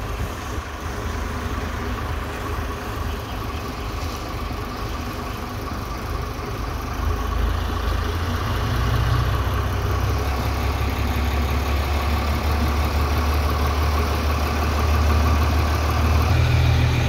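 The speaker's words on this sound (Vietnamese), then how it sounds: "Bây giờ mấy anh em chuẩn bị bơm. Bơm trăm vô cho cái nền đầy luôn." A boat engine drives a sand pump that fills a house foundation beside a small river. It gives a steady, rumbling idle-like drone that grows slightly louder partway through, with no voices.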